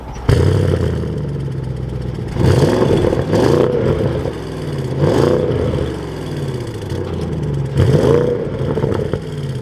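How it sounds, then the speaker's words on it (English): A 2024 Audi S8 with its 4.0-liter twin-turbo V8 fires up and revs, loud blips rising and falling at roughly regular intervals over a steady rumbling idle, heard up close and alone. "So let's take a listen to how the S8 sounds."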